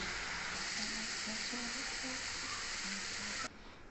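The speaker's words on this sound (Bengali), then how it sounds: "তো এবারে কিন্তু আমি মশলাটা খুব ভালো করে কষিয়ে নেব" A spice paste of ginger, cumin, chili, coriander and tomato sautés in a pan, making a continuous close sizzle with soft stirring and faint background sounds.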